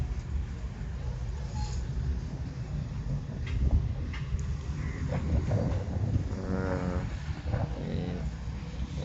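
Ongole calves at a cattle market in Duvvuru town let out a few moos, one drawn-out call standing out near the end amid a busy outdoor background with some voices.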